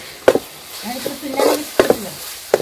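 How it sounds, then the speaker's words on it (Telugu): A spoon scrapes and stirs garam masala, coriander powder, turmeric and ginger-garlic paste in a pan for village-style chicken keema, giving a few sharp clinks and soft scraping strokes close by. "ఇంకా గరం మసాలా, ధనాల పొడి, పసుపు, అల్లం వెల్లిపాయ పేస్ట్ 4 ఒకేసారి వేసుకుందాం. వీటన్నిటిని కలుపుదాం."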